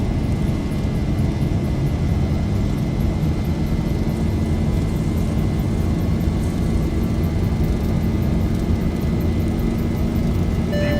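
Boeing 737-800 engines roar steadily at takeoff power in X-Plane 11, a dense, constant wall of jet noise with a faint high whine and no break.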